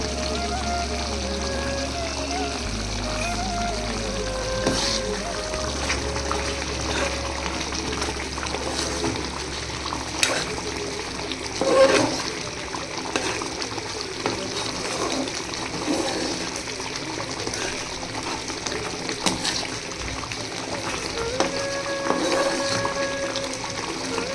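Chicken gravy with garam masala bubbling at a steady boil in a pot, a continuous watery burble and soft popping that runs throughout, with a low hum in the background.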